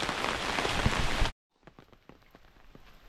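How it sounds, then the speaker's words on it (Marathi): Light monsoon drizzle in a Konkan village, a dense hiss of rain on surfaces that cuts off abruptly, leaving faint scattered drips and quiet background. "चला मंडळी पाऊस तर रिमझिम आहे"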